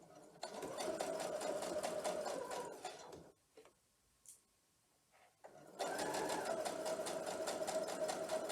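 A domestic sewing machine runs steadily while stitching a quilt block for a triangle star pattern, starting in the well between two fabric pieces; it whirs continuously, drops out briefly mid-clip to near silence, then resumes at full pace, with no talk.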